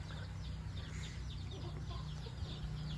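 Young Burmese fighting rooster clucking softly in a farm pen, a run of quiet repeated clucks over a low steady background hum, with no talking.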